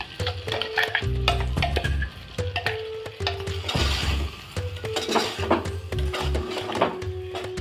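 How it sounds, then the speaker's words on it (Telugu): Tomatoes softening in hot oil in a pan after onions, stirred with a utensil that scrapes and clinks against the pan in repeated bursts, with a faint sizzle underneath and a steady hum in the background. "ఉల్లిగడ్డ వేగాక టమాటాలు ఇలా వేసుకోవాలండి. నూనెలో కాస్త మగ్గాలి టమాటా."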